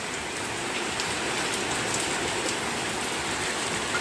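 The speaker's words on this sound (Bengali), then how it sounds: "দেখো কি হাওয়া ঝড়ো, কি বৃষ্টি, ভিজে ভিজে কাজে যাচ্ছে।" Heavy rain pours steadily in a strong gusting wind, a dense, continuous close hiss of drops beating on surfaces with no let-up.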